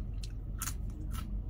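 Close-up crunching bites and chewing on a Double Southwest Bacon Whopper topped with crispy tortilla strips, with three crisp crackles over a low rumbling background.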